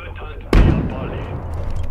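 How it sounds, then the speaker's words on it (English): A single loud, sharp gunshot-like blast from sniper fire in the game Abiotic Factor, booming in suddenly over steady low background noise and then tailing off into a long rumbling decay. "I think I'm being shot by a sniper or something"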